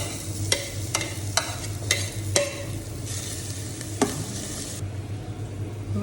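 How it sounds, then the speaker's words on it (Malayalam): Finely chopped shallots sauté in hot oil, a steady sizzle under a low hum, punctuated by about eight sharp scrapes and knocks of a spoon stirring against the pan. "അതിലേക്ക് നമ്മൾ ചെറുതായി അരിഞ്ഞ ഈ ചെറുള്ളി ഇതിലേക്ക് ചേർക്കുന്നുണ്ട്. ഇത് നല്ലവണ്ണം ഒന്ന് വഴറ്റിയെടുക്കണം"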